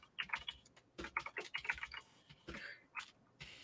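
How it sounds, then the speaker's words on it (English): Quiet, close typing on a computer keyboard, with irregular bursts of keystrokes and short pauses between words while a private chat message is written. "So I'm typing this in our private chat."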